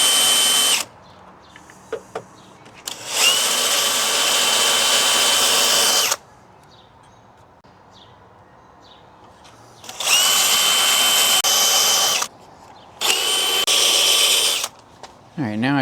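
A power drill drilling out spot welds in a car's engine bay whines loudly in several long bursts, separated by quiet pauses with faint clicks and handling noises.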